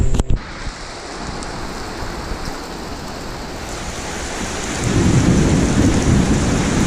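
Thunderstorm with steady heavy rain hissing throughout and a low rolling thunder rumble that swells louder toward the end, with no voices.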